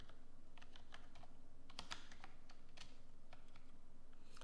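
Typing on a computer keyboard, a steady run of light, quick key clicks at close range with a low background hum and no talking.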